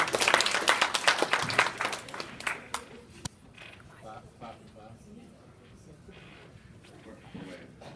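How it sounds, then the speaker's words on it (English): A live show crowd applauds as two volunteers head to the stage, brisk clapping for about two seconds that quickly tapers to a few stray claps and quiet murmuring in the room. "Give him a round of applause while they make their way up here."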